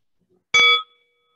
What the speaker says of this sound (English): So we'll begin with the sound of this bell